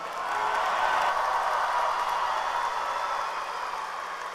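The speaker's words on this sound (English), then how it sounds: "one more round of applause for our graduates" A crowd at a high school graduation ceremony applauds the graduates, a broad, steady roar of clapping that slowly fades slightly over a few seconds, with no talk over it.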